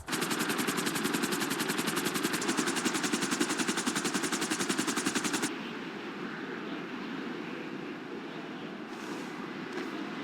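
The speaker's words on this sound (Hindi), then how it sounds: "थोड़ा हेलीकॉप्टर लैंड कराना मुश्किल होता है, बट ट्राई करते हैं ठीक ठाक से लैंड कराने का" Helicopter landing in the video game GTA 5, a loud continuous rotor chop that pulses rapidly, then drops into a steadier, softer whine and wind-like rush as it settles.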